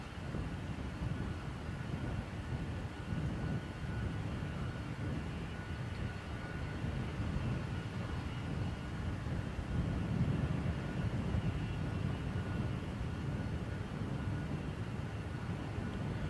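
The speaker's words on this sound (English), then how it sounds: "And now we have our Delta 767 for JFK" A Delta Boeing 767 bound for JFK at Dublin Airport gives a steady, continuous low jet roar that holds throughout at moderate loudness, with broadband wind-like rumble and no talk.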